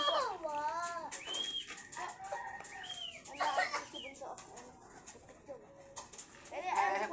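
Pigeons call nearby in a series of short, rising and falling cooing notes scattered across several seconds, with other faint bird sounds in the background.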